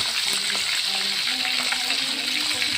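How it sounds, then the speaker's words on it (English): Catfish fries in hot oil in a frying pan over medium heat, a steady close crackling sizzle that continues without a break and with no talking. "heat the food preparation oil in a frying pan and then cook catfish"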